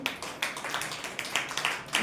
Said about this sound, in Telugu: యోబుని బట్టి ఒక్కసారి గట్టిగా చప్పట్లు కొట్టండి